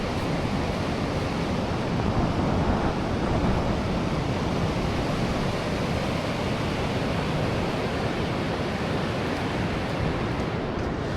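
Pacific Ocean surf rolls in on a cloudy morning, a continuous broad wash of waves with some wind across the microphone, steady and unbroken with no voices.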